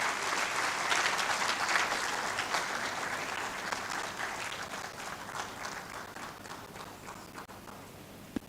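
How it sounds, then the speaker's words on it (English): Sustained audience applause at a university registrar's management seminar, a dense wash of clapping that starts strong and slowly thins and fades toward the end. "Please, let's keep the applause going as he takes his seat."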